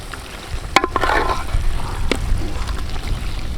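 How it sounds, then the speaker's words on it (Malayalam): Chicken kurma stirred in a pan just after garam masala and pepper go in, with a few sharp spoon scrapes and clinks over a low, steady sizzle, close and fairly quiet, no talking. "ഇനി ഇതങ്ങോട്ട് നമുക്ക് ഇതിനകത്ത് ഇളക്കി അങ്ങോട്ട് യോജിപ്പിച്ചെടുക്കാം."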